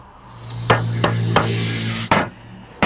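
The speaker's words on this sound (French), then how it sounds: "Cloue les languettes à droite et à gauche." Nails are driven into the flashing tabs of a roof window with a hammer: five sharp, fairly close strikes at uneven intervals, each ringing briefly over a faint background hum.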